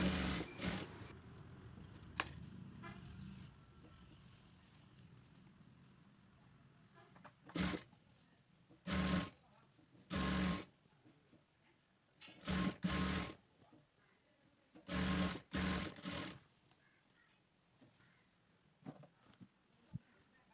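A sewing machine stitches the folded sleeve hem of a nighty in short bursts, quiet between runs, with a faint steady high whine throughout.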